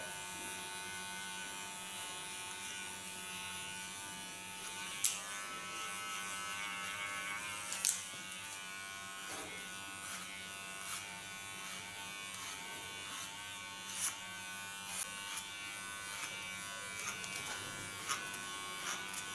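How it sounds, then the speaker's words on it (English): A hair clipper cuts over a comb while shaving the nape and sides, a steady close electric buzz running throughout with faint snips and comb clicks scattered over it. "I do this clipper over comb because then I get a nicer flow of the hairs"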